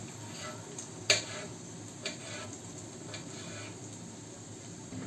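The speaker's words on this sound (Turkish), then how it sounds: "Şimdi şöyle küçük küçük kesiyorum." A few irregular, crisp knife taps strike a cutting board as vegetables are chopped into small pieces, set against a steady soft sizzling hiss of cooking in the background.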